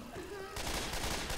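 Left 4 Dead 2 gunfire with incendiary fire bullets: a quick burst of rapid shots kicks in partway through, loud and close, over the tail of a voice at the start.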